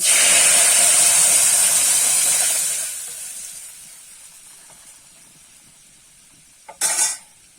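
Dal poured into a hot tempering for Bengali shukto dal bursts into a loud, close hissing sizzle that fades over a few seconds, followed by a brief metallic clank of a pot or utensil.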